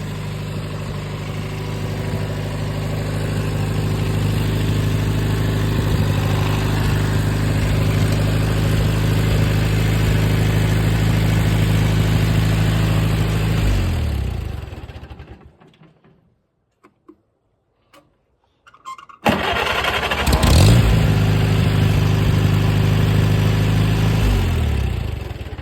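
A loud, steady Farmall 230 tractor engine idles at high speed, cuts out for a few seconds, then starts and revs up again.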